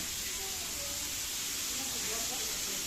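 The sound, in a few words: fish frying in oil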